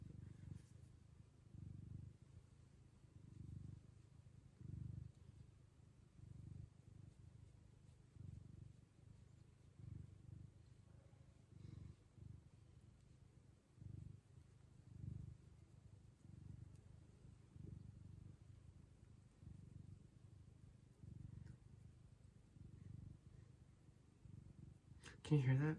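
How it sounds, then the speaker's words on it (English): A soft, low cat purr rumbling in slow rhythmic pulses, close and quiet, continuing steadily with a brief louder knock at the very end. "see if you can hear my cat purring"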